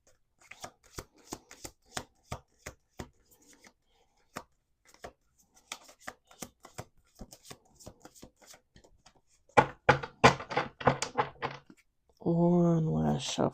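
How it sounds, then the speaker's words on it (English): Playing cards are shuffled over and over, with rapid clicking bursts and a longer riffle near the end, followed briefly by a voice. "we're going to do 2 more shuffles"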